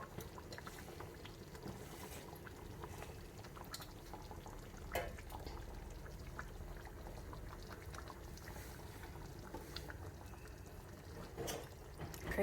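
Milk poured into a pan of roasted palak paneer gravy, a soft continuous liquid pour and faint bubbling with small clicks, quiet and close throughout.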